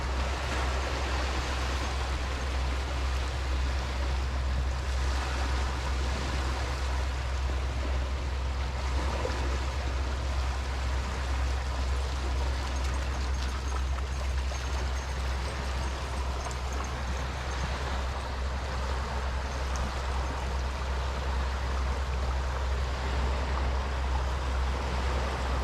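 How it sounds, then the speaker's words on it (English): On a coastal stretch of County Donegal, steady sea waves wash beneath the continuous low drone of a boat motor, a constant broadband rush with a deep hum that never lets up. "Listen to the waves, listen to the rumble of the motor of the boat."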